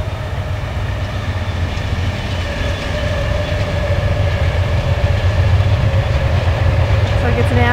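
An Amtrak passenger train passes in Virginia during a tropical storm, a loud, continuous rumble with steady rolling wheel noise close by, rising slightly as it goes and ending with a faint squeal.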